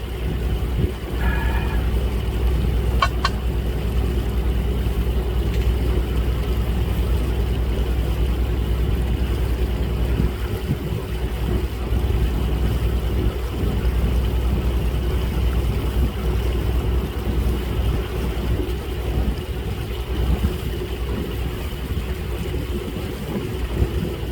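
A boat cruising on open water in Germany, its engine giving a continuous low drone over steady wash and rumble, with a faint brief tonal chirp near the start and no voices.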